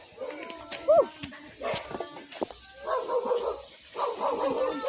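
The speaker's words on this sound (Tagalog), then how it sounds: "Oh my God, aso." A dog barks a few times amid outdoor chatter, with people talking throughout and a brief yip near the start.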